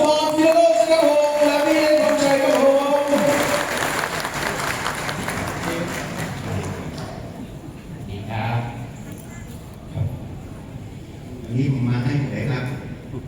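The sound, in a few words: applause welcoming the teacher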